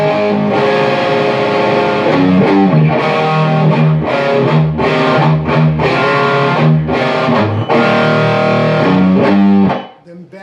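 Distorted electric guitar plays the rhythm part under a guitar solo, beginning on a 3/4 A chord: choppy, driving strummed chords with brief gaps, loud and close, ending abruptly.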